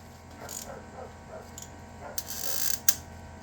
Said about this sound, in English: I'm going to tighten down the compressor.